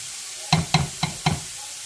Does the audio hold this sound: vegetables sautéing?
yes